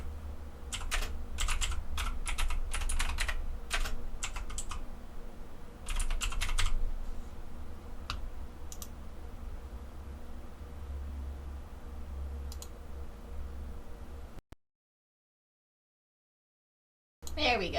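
Computer keyboard typing, a dense run of fast clicking keystrokes in bursts with short pauses, fairly close over a steady low hum, cutting to silence near the end before the hum returns.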